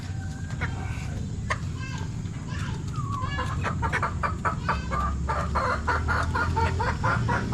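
Chickens, including a gold straight-comb bird, cluck repeatedly from close by on a farm, their calls coming in quick bursts over a steady background din, with faint voices in the yard.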